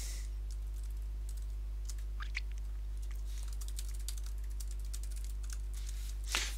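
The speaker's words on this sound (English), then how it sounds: "I guess I like typing." Fingers type on a computer keyboard in quick, irregular bursts of soft clicks, close and faint over a steady low electrical hum, ending with a louder clack.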